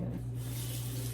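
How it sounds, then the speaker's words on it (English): Tap water runs steadily over hands being rinsed at a kitchen sink, a continuous close hiss that swells after a brief quieter start. "Rinse my hands."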